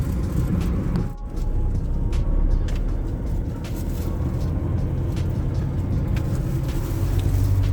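A new Mitsubishi Triton pickup truck drives along, its engine and road noise forming a steady, close rumble that lasts the whole stretch with no talking.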